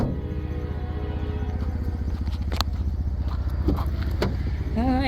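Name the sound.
2014 Ford Edge car engine running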